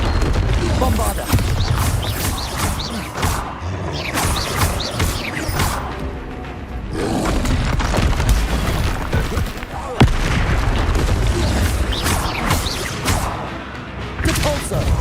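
Spell explosions from Hogwarts Legacy combat boom and crash repeatedly amid a busy, loud battle mix, with dense bursts and impacts throughout and game voices calling out between blasts.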